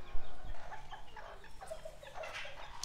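Serama rooster clucking in a coop, several soft rapid clucks at close range amid faint farmyard background, with no talking.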